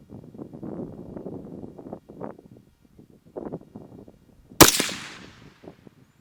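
A rifle fires one loud, sharp shot during scope zeroing at a range, with a ringing decay after it, preceded and followed by a man giving calm spoken instructions.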